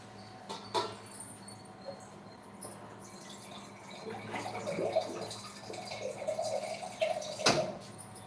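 Water is poured into a cooking pot after jaggery is added, a close trickling and splashing that grows busier in the second half, with light drips and faint background chirping.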